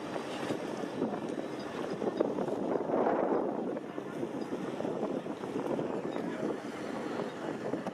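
Zodiac inflatable rescue boat running with its engine in gear at a sea festival, a steady broad rumble and rushing water and wind noise throughout, loud and continuous with no clear talk.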